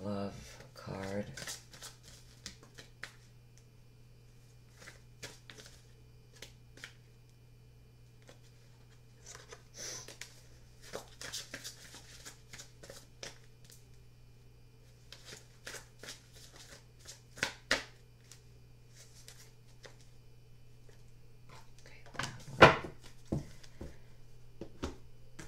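Oracle cards from the Keepers of the Light deck shuffled in a quiet room, giving soft, intermittent riffling bursts over a steady low hum, with a sharper flurry near the end.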